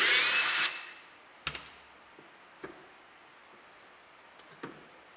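A power tool briefly spins off the wheel nut of an electric carbon street skateboard, giving one loud burst at the start, then a few faint clicks and taps of the tool and parts against a quiet background.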